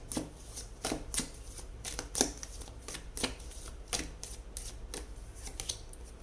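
Tarot cards being shuffled and handled, giving a quick series of crisp riffling flutters and soft slaps, close and fairly quiet against a low room rumble.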